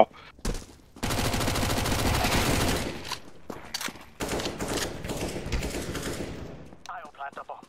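Sustained automatic gunfire rattles in two long, loud bursts with a few single shots between them during a firefight in Counter-Strike: Global Offensive, close and dense, with brief quiet gaps.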